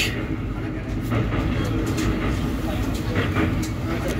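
Rumble and rhythmic clatter from inside the Sealdah–New Delhi Duronto Express as it crosses the Dakshineswar rail bridge, a steady close train roar with brief sharper knocks, and speech over it.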